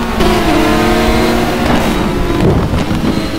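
Robin Frischkopf's race car roars down the track in an RSA Toprace race, a loud, sustained engine note rising and shifting as it blasts past close by.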